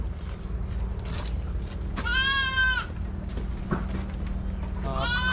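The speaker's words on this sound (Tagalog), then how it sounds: "oh, lalaki ng mga kambing nila" Imported male goats kept on a farm bleat in two loud, wavering calls, one early and one cut off at the end, over a low steady background hum with faint knocks between.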